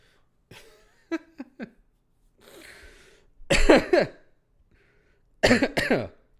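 A person coughs several times nearby, starting with a few short separate hacks, then a breathy exhale, then two heavy, harsh coughing fits with quiet gaps between them.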